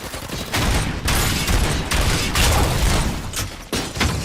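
Rapid, dense gunfire from the video game RoboCop: Rogue City rattles on in close, loud bursts, with short gaps between volleys throughout.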